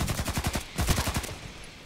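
An SVU-AS automatic sniper rifle fires in the online shooter Contract Wars, a rapid burst of about a dozen sharp shots in even rhythm, loud and close, ending in a brief tail.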